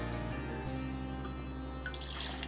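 Ford's Gin trickles into a cocktail mixing vessel in a short, soft liquid pour, faint and close, with no talk.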